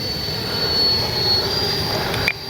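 A Freewing Banshee 64mm EDF radio-controlled jet flies by with a steady high-pitched ducted-fan whine and rushing air, fairly loud and continuous before cutting off abruptly near the end.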